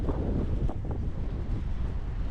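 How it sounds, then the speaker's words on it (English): Cold wind gusts across the microphone beside the South Atlantic coast, a steady loud roaring buffet with uneven surges and no talk. "You see the wind blowing there?"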